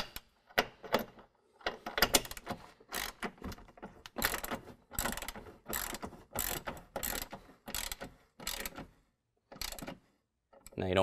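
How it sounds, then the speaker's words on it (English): A 19mm socket ratchet clicks in short repeated bursts while snugging a bolt into a welded nut on a Willmore stainless and black running board for a GMC Acadia, ratcheting strokes separated by brief pauses, close and fairly quiet. "using a 19mm we can tighten down our bolt"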